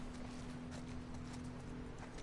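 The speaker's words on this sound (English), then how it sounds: "oh look, a horse." Horse hooves clip-clop in The Last of Us Part II, a soft, fairly distant rhythmic clopping over a steady low game hum, with no voices.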